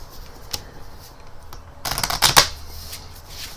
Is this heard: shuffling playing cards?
yes